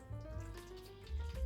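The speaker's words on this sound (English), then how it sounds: "And I'm also going to half fill the tray outside with hot water." Hot, just-off-the-boil water is poured into a baking tray for a matcha soufflé cheesecake water bath, a short continuous splashing pour heard close and alone.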